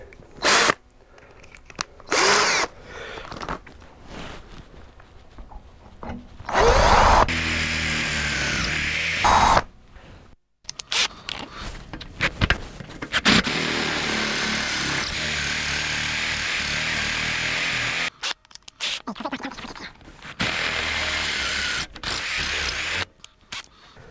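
An electric drill with a 10 mm bit whines in repeated bursts, starting and stopping with short pauses, sometimes running for several seconds while boring through material, close and loud.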